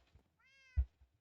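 Single short cat meow from the Minecraft video game, a steady tonal cry followed by a soft low thud and faint clicks, alone without talk.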